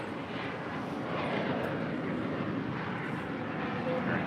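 Sun Country Airlines Boeing 737-800 jet arriving at LAX, a steady broadband engine roar holding loud and continuous throughout with no break.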